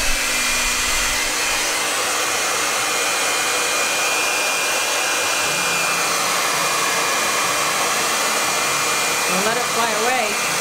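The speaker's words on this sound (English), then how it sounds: "And then we're gonna dry it with the blow dryer really quick so that we can work on the rest of the painting." A blow dryer on its cool setting runs continuously, drying paint on a Q-tip painting with a steady loud whoosh, and a voice speaks briefly near the end.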